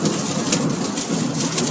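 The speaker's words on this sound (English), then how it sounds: "Oh, wow, that was a big thunder." Loud thunder rumbles through steady heavy rain during an Oklahoma thunderstorm with a hail and tornado threat, the rain hissing continuously close by with no voices.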